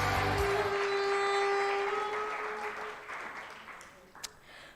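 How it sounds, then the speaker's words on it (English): A conference audience applauds award-winning entrepreneurs at an afternoon plenary, clapping loud at first and gradually fading out. "Please give all of our Indalo Grow entrepreneurs a wonderful round of applause."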